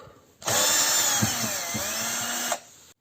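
Power screwdriver backing out undertray screws on a VW Golf 7: one continuous high whirring run of about two seconds, loud and close, starting and stopping abruptly, with no talk.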